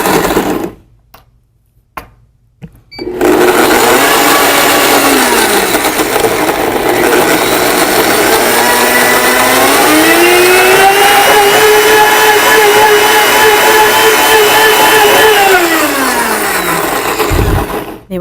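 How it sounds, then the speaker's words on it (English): A blender pulverizes cashews and liquid into a creamy sauce, starting after a few faint clicks and then whirring loudly and continuously, its motor pitch rising and shifting as the mixture smooths out, before winding down at the end. "I'm just going to let the liquid and the nuts get pulverized down to a nice, smooth, creamy kind of saucy"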